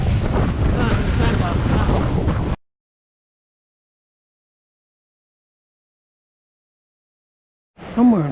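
Heavy wind buffeting a microphone on a run at Wilsons Prom: loud, dense roaring rumble for a couple of seconds, then silence, before a burst of wind noise returns with a brief voice.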